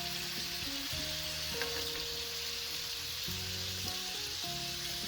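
Extra firm tofu with liquid amino acids fries in a pan, a steady, even sizzle held at close range throughout, with faint background tones and no talking.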